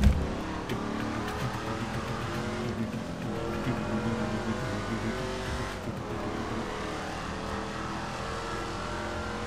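Ruiner 2000 car engine in GTA 5 accelerating steadily, a loud sustained revving drone with rising engine tones throughout, no talk over it.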